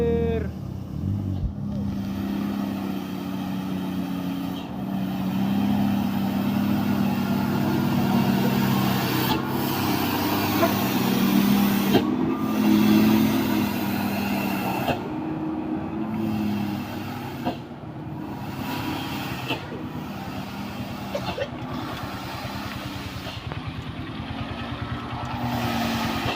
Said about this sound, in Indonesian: ini dia truk kol diesel langsung tancap gas